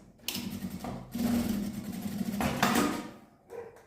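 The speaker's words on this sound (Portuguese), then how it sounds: "E vou passar uma costura aqui nesse viés." A sewing machine runs stitches along bias tape in short close bursts, whirring steadily with brief pauses between runs.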